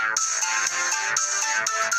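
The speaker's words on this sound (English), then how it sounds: "Sorry, that's my phone." A mobile phone rings with an incoming call, its bright melodic ringtone repeating in a steady, even pattern for the whole stretch, fairly close and with no talking.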